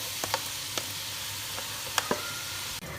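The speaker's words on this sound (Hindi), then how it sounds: "अब मीडियम लो फ्लेम पर इसकी अच्छी तरह से हम करेंगे भुनाई।" Onion, almond and green chili paste sizzles with garlic ginger paste in a pan over medium-low flame: a steady close hiss of frying broken by a few sharp crackles and spatters, no voices.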